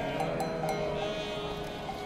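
A flock of sheep bleats on the Anatolian steppe, several overlapping wavering calls near and far, steady over open-air background noise, with no talking.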